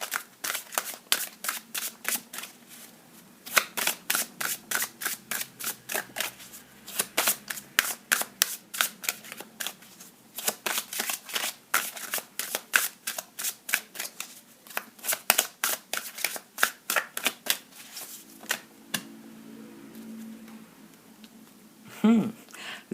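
A deck of oracle cards is shuffled by hand in quick rhythmic bursts of riffling and snapping, repeated many times close up, before a brief voice at the end.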